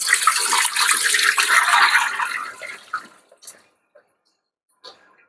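Cold water pours over boiled beets and beet leaves in a kitchen, a loud rushing splash for about two seconds that tapers off, followed by a few scattered drips and small knocks in near silence.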